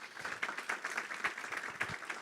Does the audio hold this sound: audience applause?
yes